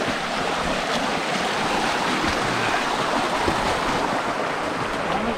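River water at Los Chorros in the Huasteca, rushing loudly and continuously, a dense broadband roar close to the microphone with some wind buffeting.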